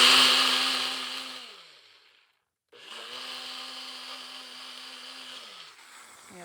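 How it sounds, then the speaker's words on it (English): A blender whirring loudly as it purees nuts, garlic and tamarind for a pad thai sauce, motor pitch sagging as it runs, cutting off briefly, then restarting for a second steady burst. "I'm going to put it in the blender because it just helps to emulsify the nuts and the garlic and the tamarind"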